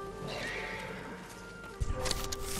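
Horses in the video game Ghost of Tsushima neigh loudly at a stable, a long whinny filling most of the moment before a few hoof clops and snorts close it out, with no talking.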